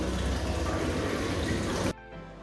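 Water pours steadily out of an aquarium filter outlet on a large predator fish tank, a loud, even rush that cuts off abruptly near the end and leaves a faint hum.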